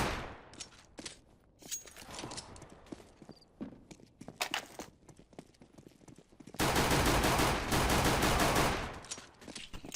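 Sharp gunshots crack in quick irregular bursts, then a sustained roar of rapid fire near the end, loud and close with no talking, in the video game CS:GO.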